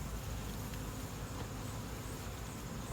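Steady, dense buzzing of many honey bees close by around a hive, a continuous hum with no pauses and no voices.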